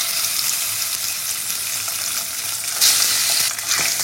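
Pieces of fish sizzle in hot oil with a loud, dense, continuous hiss, flaring into a brighter crackling burst near the end, heard close up and with no voices.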